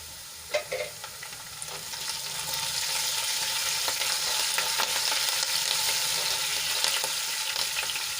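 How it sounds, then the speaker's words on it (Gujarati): Chopped green chili dropped into hot oil in a pan, sizzling with a couple of sharp spits at first, then a steady, loud, close frying hiss with faint stirring. "હવે એમાં એક લીલું કાપેલું મરચું એડ કરી દઈશું"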